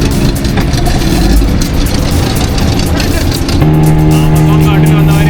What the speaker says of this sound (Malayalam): ഞങ്ങൾ സ്പീഡ് ബോട്ടിലാണ് പോകുന്നത്